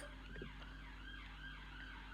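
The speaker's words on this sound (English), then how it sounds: "Can you hear the siren?" A distant emergency siren wails in rising and falling sweeps, faint beneath a steady low hum of background noise.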